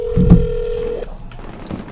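A phone placing a call to Domino's pizza gives a loud steady tone for about a second with thumps at its start, then a brief fainter beep.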